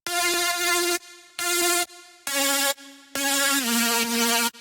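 Future bass synth layer playing the top notes of the chords, bright buzzy sustained tones in held blocks separated by short gaps, with a pitch glide near the end, loud and upfront.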